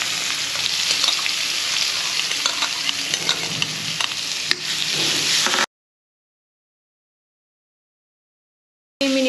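Chopped onions frying in a pan over low gas give a close, continuous crackling sizzle with light stirring and a few sharp pops. The sound then cuts off abruptly into silence, and there is no talking.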